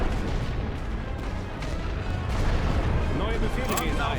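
Artillery bombardment in the Great War Western Front video game: a dense, continuous roar of overlapping booms and rumbling blasts rolling on loudly throughout, with sharper crackling detonations near the end.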